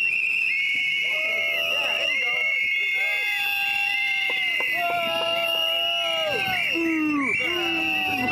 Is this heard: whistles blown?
yes